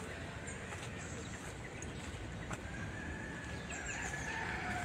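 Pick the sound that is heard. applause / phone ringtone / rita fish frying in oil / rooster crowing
rooster crowing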